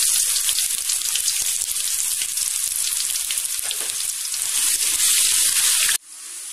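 Curry leaves and ginger garlic paste sizzle hard in hot oil for egg paniyaram gravy, a loud, dense, steady crackle that stops abruptly near the end, leaving a quieter hiss.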